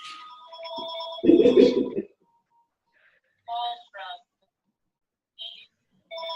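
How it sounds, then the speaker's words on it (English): A telephone rings with a bright electronic ringtone, first under a soft voice, then a loud burst of sound, followed by short, evenly spaced rings separated by silence. "Phone's ringing."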